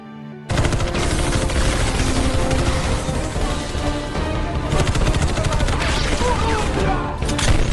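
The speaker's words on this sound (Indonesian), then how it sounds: "Baku tembak pun terjadi antara anggota The Expendables dan para teroris" Dense, loud gunfire rattles almost without pause in a firefight between mercenaries and terrorists from the action film The Expendables, with automatic bursts, crashes and impacts layered over a steady, busy action-movie din.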